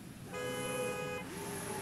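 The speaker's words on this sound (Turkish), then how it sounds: "Kim basıyor kornaya abi? Ben basmıyorum kornaya, başkaları basıyor." A car horn honks in the racing game Forza Horizon 5, one sustained steady blast lasting about a second over a constant engine drone, the horn sounding loud and close.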